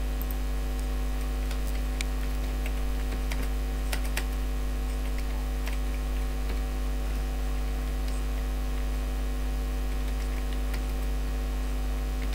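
A computer keyboard being typed on in Microsoft Word, with faint, scattered key clicks under a strong steady electrical hum.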